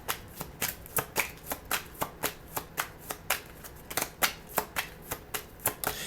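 A tarot deck is shuffled by hand in a steady, rhythmic series of crisp card slaps and riffles, close and clear, about three per second.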